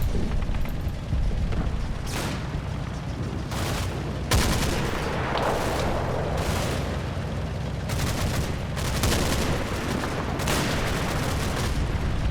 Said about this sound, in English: Just want to see what this kind of strafing looks like.